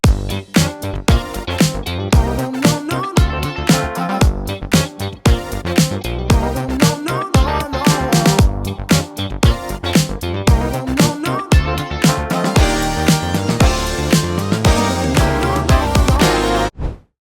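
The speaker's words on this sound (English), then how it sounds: "my keyboard sound is from Keyscape, and that's just a classic Rhodes sound" A funky groove with punchy drums and bass under warm Rhodes electric piano chords, loud and continuous before stopping abruptly at the end.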